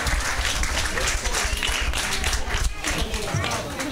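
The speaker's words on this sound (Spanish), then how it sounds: "Fuerte el aplauso para ella por la creatividad" Audience applause at a San Juan night community celebration in Chiloé, a dense, steady roar of many hands for nearly four seconds with crowd noise and voices mixed in.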